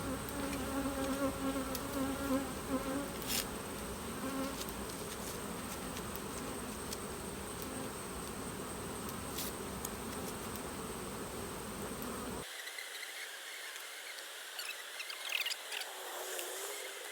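Honeybee colony humming steadily at a single brood chamber hive in a bee yard during a honey flow, a dense continuous buzz up close with no talk, the tone shifting near the end.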